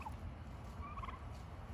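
Turkeys gobbling in a backyard flock kept with chickens, a steady low rumble of close bird calls with a few brief higher notes, no talking.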